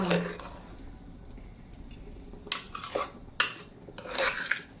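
A spoon stirs ghee through cooked rice in a pot, with soft background hiss and then several sharp scraping clatters against the metal, close by.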